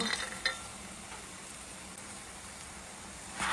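Soft scraping and stirring of thick kashi halwa in a pan with cardamom and fried cashews, faint sizzling underneath and a couple of brief utensil clicks, fairly quiet and close.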